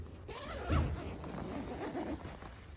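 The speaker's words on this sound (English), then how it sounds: "So that's one hand zipping, marvellous." The mesh zipper on a Nortent Skjul hooped bivi is drawn closed with one hand, a soft close rasping pull lasting a couple of seconds, quiet and uninterrupted.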